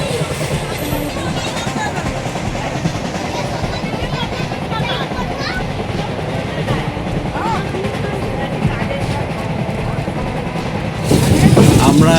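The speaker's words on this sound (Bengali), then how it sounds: "ট্রেনের মধ্যে আছি আমরা" Steady rumbling of a train heard from inside, running on the rails toward Kharagpur station. A continuous rolling din with voices murmuring faintly underneath, growing louder near the end.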